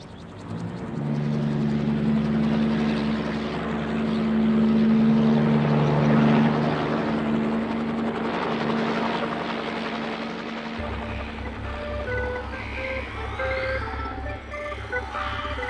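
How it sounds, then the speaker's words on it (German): Helicopter lifting off and flying away in a children's story scene, its steady rotor drone sustained throughout, with a low mechanical rumble swelling near the end and light musical tones layered over it. "Dann hob sich der Hubschrauber vom Boden ab und flog knatternd"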